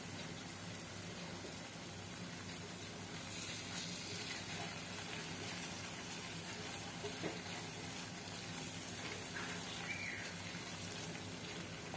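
Brinjal masala sautéing in a pan for restaurant-style baingan masala, a soft, steady sizzle that holds evenly throughout with no voices.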